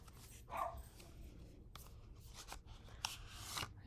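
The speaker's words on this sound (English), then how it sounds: "I don't know if you guys heard my dog barking." A household dog barks a few times in the distance, faint and scattered among soft rustling and scraping sounds in a quiet indoor room.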